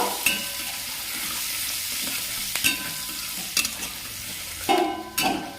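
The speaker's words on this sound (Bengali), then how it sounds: "পেঁয়াজটা একটু লাল লাল করে ভেজে নেব।" Chopped onions fry in a pan for a spinach dish, a steady close sizzle broken by several sharp scraping stirs of a spoon against the pan, with no talking.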